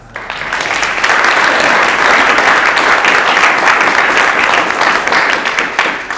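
Loud, sustained applause from an audience at a startup pitch competition, a dense wash of clapping that swells quickly and holds steady before easing off.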